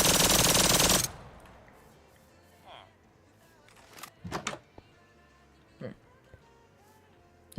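Rapid automatic fire from a 9mm gun in a Minecraft gun mod, a dense burst emptying the magazine for about a second, followed by quieter clicks and handling noises.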